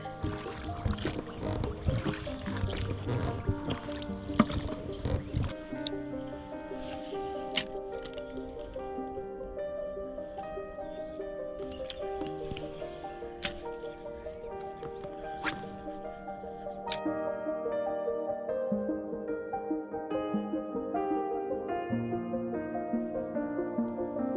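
Water sloshes and paddles splash as a small fishing boat moves along, with creaking and occasional knocks against the hull; no one speaks.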